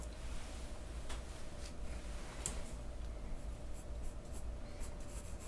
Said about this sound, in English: I'm starting this drawing with a 2H pencil.